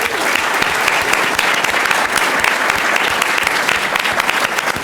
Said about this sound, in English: Big round of applause for John Fountain.